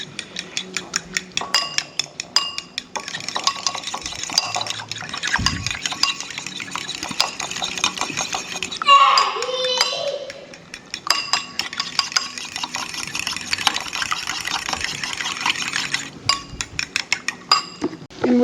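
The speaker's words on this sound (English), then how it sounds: "we get a fork and we scrambled." Metal fork scraping and clinking against a container while stirring and breaking up Trader Joe's frozen fried rice, a busy run of close, rapid taps and scrapes with brief pauses and a short voice midway.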